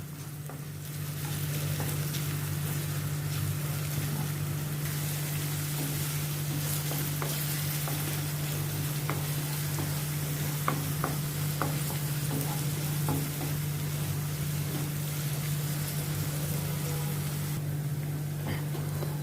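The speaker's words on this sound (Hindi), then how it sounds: "प्याज को भी मैं थोड़ा अभी सौते करती हूँ।" Onions sauté in a pan over a medium gas flame, giving a steady, continuous sizzle with faint scrapes and small pops from stirring throughout.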